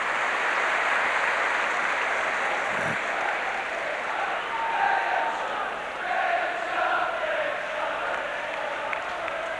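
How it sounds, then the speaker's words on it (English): Football spectators at an Everton v Newcastle United match sing a player's name in a broad, sustained crowd chant that carries at a distance beneath the general stadium roar. "And now the spectators singing the name of Graham Sharp."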